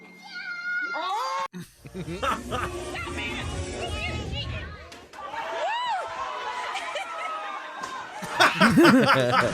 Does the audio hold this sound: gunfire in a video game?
no